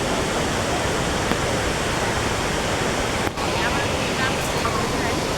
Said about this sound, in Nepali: पानीका छिटा हो